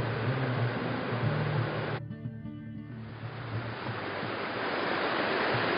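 A loud river rushing close by, a steady, dense roar of flowing water that continues throughout with only a brief dip, and no talk over it.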